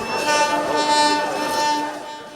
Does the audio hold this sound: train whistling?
yes